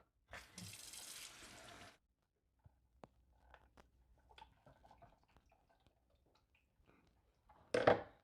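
Water pours briefly from a tap into the mopping tank of a 360 C50 robot vacuum, followed by quiet clicks and handling noises and a short final splash.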